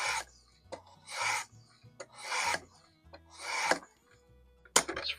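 A knife stropped on a fine-grit abrasive of a Work Sharp Precision Adjust Elite sharpening system, five close, rhythmic rasping strokes about a second apart with light clicks between them, loud and unaccompanied by speech.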